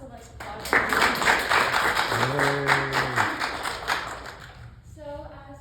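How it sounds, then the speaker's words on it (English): An audience applauding after presentations at a public health talk, a dense patter of clapping that swells and fades over a few seconds, with a voice and some tonal sound briefly overlapping. "I would like to give all of our presentations a round of applause"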